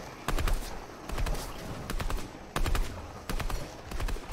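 Burst-fire rifle shots crack out in quick clusters on a Fortnite aim training map, several tight volleys of three or four rounds separated by short pauses, loud and close with no voices.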